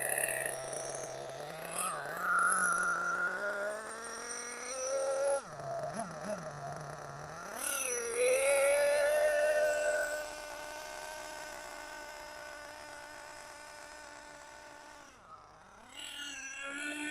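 A Losi LST radio-controlled monster truck runs downhill, its small engine whining loud and high, climbing and dropping in pitch as the throttle rises and falls, then fading further off before a last brief rev.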